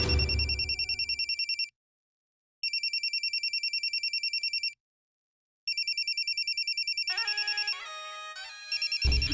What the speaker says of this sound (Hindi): हाँ, फोन बज रहा है, देखो।